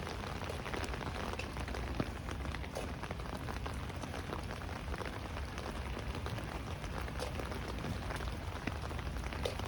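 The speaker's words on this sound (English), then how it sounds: "Rain is falling lightly now." Light rain falls steadily on a street in Howard Beach, Queens, New York, a dense, even patter of drops on pavement with no voices.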